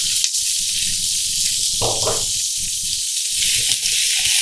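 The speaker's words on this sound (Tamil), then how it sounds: "வெங்காயத்தை நல்லா வறுத்துக்கோங்க." Chopped onions with cumin and pepper sizzle steadily in hot oil in a pan, a loud continuous frying hiss with small crackles, no talking.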